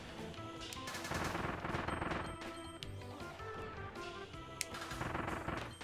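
Kirby fires rapid shots with the Noble Ranger ability in Kirby and the Forgotten Land, dense volleys of loud gunfire with crashes and game effects, continuous and close.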